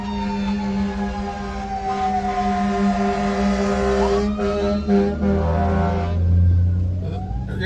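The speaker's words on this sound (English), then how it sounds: "Oh, I hear the fire engines." Fire engine sirens wail through town during a storm, their pitch sweeping up and down in long loud rises and falls as the trucks pass close by, with deep engine rumble and traffic noise underneath.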